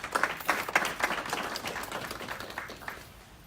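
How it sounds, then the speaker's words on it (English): Audience applause at a fundraising event for victims' families, a dense patter of many hands clapping that starts strong and gradually thins and fades over a few seconds. "Please give them a round of applause."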